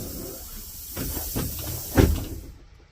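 The folding door of a Minnesota school bus shuts with a steady pneumatic air hiss and a firm thud near the end, heard from inside the cab close by.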